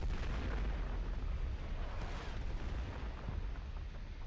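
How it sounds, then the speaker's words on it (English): An enemy RSC fires during a battle in the war game Foxhole, heard as a dense, continuous roar of booming gunfire and explosions with no clear pauses. "That's an enemy RSC shooting you"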